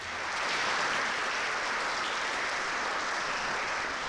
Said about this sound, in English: So let's give him a round of applause anyways.